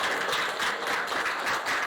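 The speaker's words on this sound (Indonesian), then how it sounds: "Oke, beri tepuk tangan dulu." A classroom audience applauds a presenting group, dense steady clapping from many hands filling the full two seconds at moderate loudness.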